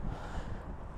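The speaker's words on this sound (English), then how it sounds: "Apologies for the wind." Steady low rumbling wind buffeting a microphone beside a river, a continuous muffled roar with no voices.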